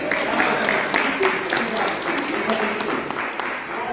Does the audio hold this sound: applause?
yes